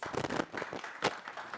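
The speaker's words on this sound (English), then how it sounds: "Can we give her a round of applause?" Audience applause for a panelist at a youth empowerment social housing information session, a brief burst of many hands clapping at moderate level with a short louder swell near the end.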